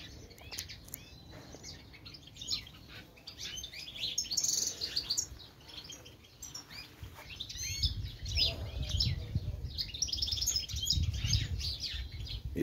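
Goldfinches kept as call birds in an aviary sing busily during mating season, bright twittering trills and chirps overlapping continuously at moderate distance, with soft rustling beneath.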